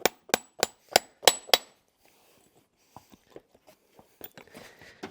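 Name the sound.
hammering nails into a horseshoe on a hoof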